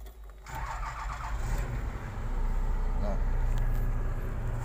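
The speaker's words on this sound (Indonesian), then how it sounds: "Oke, kita nyalakan krennya dulu." A Terex A600 60-ton crane engine starts at a coal mining site, cranking briefly and then settling into a loud, steady diesel idle close by.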